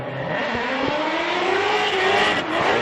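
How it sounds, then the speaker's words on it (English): A Roush Performance Ford Mustang drift car engine roars loudly and continuously at Evergreen Speedway during Formula Drift qualifying, with a sustained high-revving drone and pitch shifts as the car slides. "As that Roush Performance engine echoes through Evergreen Speedway."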